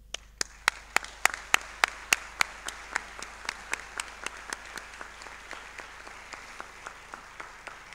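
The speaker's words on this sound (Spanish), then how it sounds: "queremos decirle gracias, muchísimas gracias a ustedes y brindarles un fuerte aplauso" One clearly distinct pair of hands claps in a steady, evenly spaced rhythm over a faint murmur of other clapping at an inauguration ceremony, the beats slowing and softening slightly over eight seconds.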